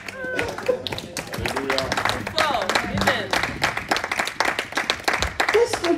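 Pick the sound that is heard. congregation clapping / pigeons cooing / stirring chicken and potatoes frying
congregation clapping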